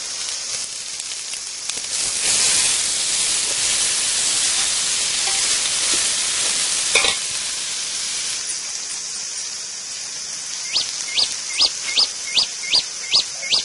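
Tomatoes fry in hot oil for a village-style kuska biryani, a loud broad sizzle and hiss that shifts midway, followed by a run of regular scraping or clinking strokes near the end.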